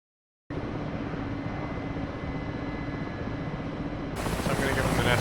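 An Mi-8 helicopter in a military video game: a steady, droning engine and rotor roar that starts abruptly after a moment of silence and swells louder near the end.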